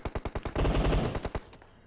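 Rapid bursts of automatic gunfire in a duo video game match, a string of sharp shots followed by a dense, loud volley before tapering off.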